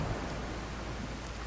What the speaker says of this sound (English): I'm going to get out of this rain, though.